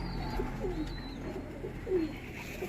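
Madras pigeons of the gola line coo softly at close range in a sale loft, two or three low throaty coos over a steady hum of background noise.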